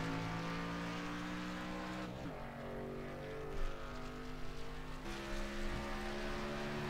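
Race car engine on a qualifying lap at Daytona in a racing sim, a steady loud drone whose harmonic pitch shifts and drops with gear changes, running continuously.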